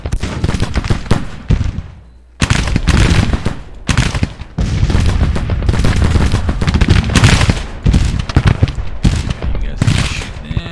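Heavy massed musket volleys crackle almost nonstop through a Civil War battle game at Shiloh, loud and dense with brief lulls, players talking underneath.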